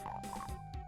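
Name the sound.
imp monster croaking sound in DOOM video game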